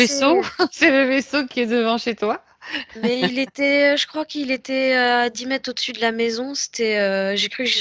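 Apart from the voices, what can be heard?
No distinct noise like a dog, phone or traffic.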